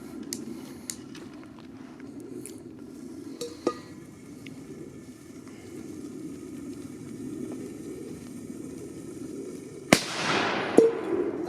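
A Black Widow TXP859 triplex firecracker of about 0.2 g bursts once with a loud, sharp bang near the end, after a stretch of quiet outdoor background with a few faint clicks, and brief crackling follows the blast.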